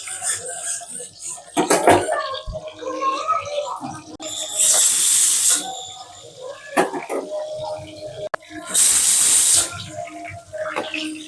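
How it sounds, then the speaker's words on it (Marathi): Prawn koliwada frying in hot oil, a steady bubbling sizzle with two loud hissing surges, heard under a person talking. "आता कोलीवाडा बनवलेला आहे तो फ्राय करतोय"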